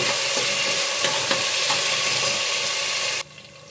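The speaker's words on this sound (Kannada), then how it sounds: "ಟೊಮೆಟೊ ಸ್ವಲ್ಪ ಸಾಫ್ಟ್ ಆಗಬೇಕು, ಅಲ್ಲಿವರೆಗೂ ಸ್ವಲ್ಪ ಎಣ್ಣೆಯಲ್ಲೇ ಫ್ರೈ ಮಾಡ್ಕೊಳ್ಳಿ" Tomatoes frying in oil in a pan for a soya chunks palav, a steady close sizzle with a few stirring scrapes, cutting off abruptly near the end.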